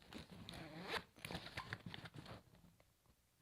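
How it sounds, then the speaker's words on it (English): A weather-resistant zipper on a bag is pulled open in a few quick raspy zips, close and quiet, with nothing else heard. "has pretty nice weather resistant zipper"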